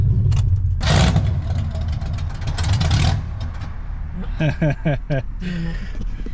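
A Chevy S10 hot rod with a failing starter is cranked, with rapid rhythmic starter whirring followed by the engine catching, under loud nearby voices.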